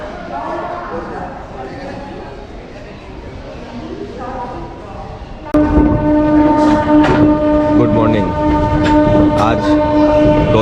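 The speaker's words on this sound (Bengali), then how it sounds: "সকাল সাড়ে ছটা আমাদের ট্রেন ছাড়ছে এখন আদ্রা থেকে" A passenger train pulls out of Adra station early in the morning, its steady rumble and rolling clatter jumping louder partway through, with a sustained horn-like tone and voices around.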